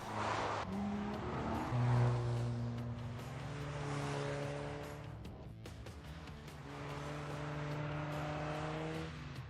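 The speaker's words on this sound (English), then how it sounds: "So I decided we should have a drifting competition." An Alfa Romeo slides through drifts on a narrow go-kart track in The Grand Tour racing game. The engine drones and revs in sustained loud tones, with tires squealing and brief pauses as the car shifts and throttles back up.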